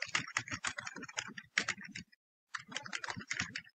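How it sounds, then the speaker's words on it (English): Fast typing on a computer keyboard while entering a name, steady clusters of close, crisp key clicks with one short pause midway before the tapping resumes. "I will type my name"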